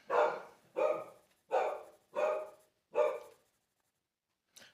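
A dog indoors barks five times in a loud, evenly spaced run of sharp, close barks, then goes quiet before one brief faint sound at the end.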